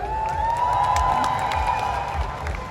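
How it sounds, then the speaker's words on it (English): An audience at a movie promotion in Dubai cheers for Dimple, a steady crowd roar with whoops and a high sustained tone over it, fairly distant and continuous. "Once again, allow the cheer for Dimple, ladies and gentlemen"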